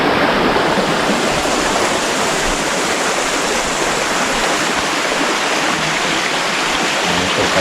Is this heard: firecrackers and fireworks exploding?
no